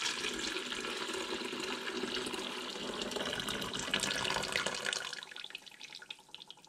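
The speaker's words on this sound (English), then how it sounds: "And then we'll add the cold water. Always, always, always do this over the sink." Cold water poured from a jug into a container of sweet tea over a kitchen sink, a steady rushing splash that runs for several seconds and then tapers off and stops.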